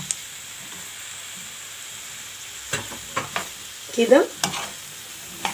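Sausage frying in a pan with softened tomato, onion and garlic, a quiet continuous sizzle broken by several sharp stirring scrapes, with a brief spoken word.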